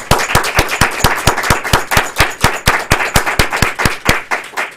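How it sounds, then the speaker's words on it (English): Loud, close applause for contestants at a Toastmasters speech and evaluation contest, rhythmic unison clapping with sharp, evenly spaced claps like a steady beat, continuing without a break. "Let's give another round of applause for all of today's contestants."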